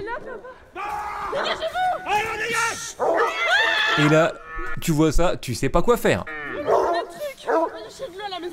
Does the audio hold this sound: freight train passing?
no